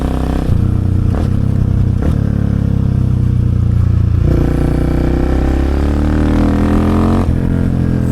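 A Husqvarna 701 motorcycle's single-cylinder engine runs loud and close, idling steadily with a few sharp blips and rising revs toward the end, no talking over it.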